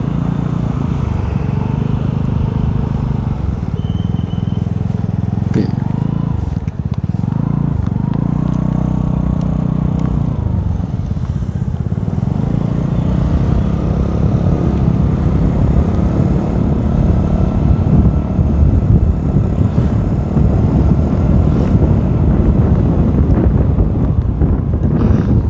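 A Vespa Sprint scooter fitted with DB killer exhaust baffles rides along with a subdued, muffled engine hum under heavy buffeting wind noise that grows stronger later on.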